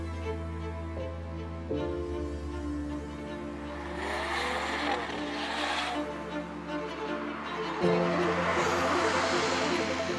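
An Alpina car's V8 engine accelerates from inside the cabin, a low, moderately quiet hum whose pitch rises through the gears with a shift near the end, alongside road and wind noise.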